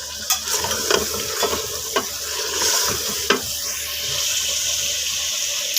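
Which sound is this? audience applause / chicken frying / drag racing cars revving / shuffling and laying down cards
chicken frying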